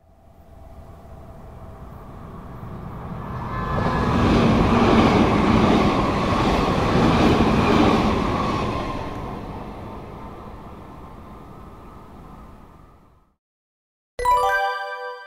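A JR Kagoshima Line Limited Express Sonic train passes, its rumble swelling from a distance to a loud close roar, then fading away, followed by silence and a short bright electronic chime at the end.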